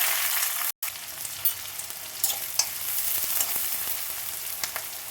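Garlic cloves, onion and green chilli fry in a pan for a fenugreek leaf stir-fry, giving a steady bright hiss of sizzling oil with scattered small pops and crackles, close and continuous.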